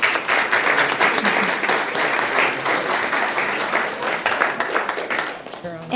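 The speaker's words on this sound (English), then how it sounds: "And one last big round of applause for those student athletes." A big round of applause for student athletes at the Peoria Unified governing board meeting, a full room clapping steadily and loudly for about six seconds, with faint voices beneath and the clapping fading at the end.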